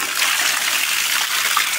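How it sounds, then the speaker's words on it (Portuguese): Water pours steadily from a rural spout after rain, a continuous broad splashing rush held close and fairly loud throughout, with no voices over it. "Olha lá o tanto d'água que tá saindo lá embaixo."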